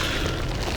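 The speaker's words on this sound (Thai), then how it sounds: "ไอ้นี่เพิ่งระเบิด" A loud, dense burst of noise from an explosion in the game Dead by Daylight, a broad rumbling blast filling the whole moment with no speech.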